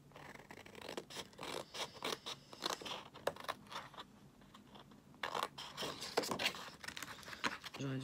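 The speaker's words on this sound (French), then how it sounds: "J'aurais dû prendre encore des plus petits ciseaux" Scissors snip and crunch through fabric or paper on a cluttered desk while a prototype beach cabin is made, giving repeated close, irregular cuts with pauses and scraping handling noises throughout.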